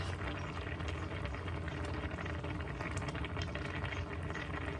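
Kimchi soup with tofu simmering in a pot, a soft, steady bubbling and gurgling at low level with no voices.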